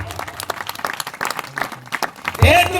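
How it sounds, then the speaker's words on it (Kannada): A church congregation claps together in applause, a dense burst of hand claps mixed with voices, followed by a loud spoken shout near the end. "ಚಪ್ಪಾಳೆ ತಡಬೇಕು"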